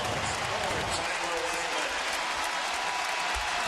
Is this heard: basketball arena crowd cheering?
yes